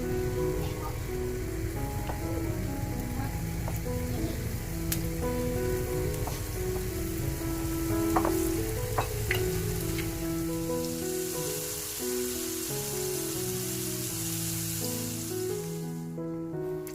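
Battered chicken crackles and sizzles steadily in deep oil, a dense, continuous hiss with scattered pops, heard close up under a quiet musical backdrop.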